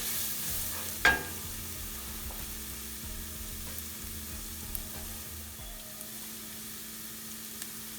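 Garam masala and coriander powder browning in a frying pan for keema: a quiet, steady sizzle with faint stirring scrapes and one sharp clink near the start, no voices.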